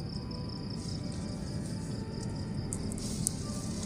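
Grasshoppers or crickets chirp at a nighttime forest campsite, a continuous high, faint buzzing trill steady throughout with a few sharper chirps near the end, no voices.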